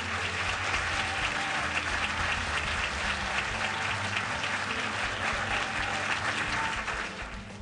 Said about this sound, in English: A round of applause for Alice Waters!